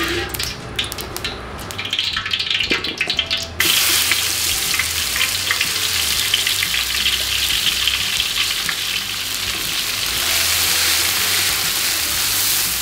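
About 150 ml of hot cooking oil sizzles and crackles loudly in a pan, a steady frying hiss after some brief clatter at the start.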